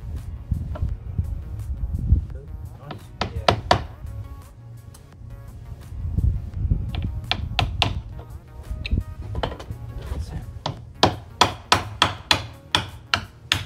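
Hammer strikes driving nails into timber fascia boards, sharp and close, coming in irregular bursts with a quick run of evenly spaced blows near the end, over outdoor wind noise.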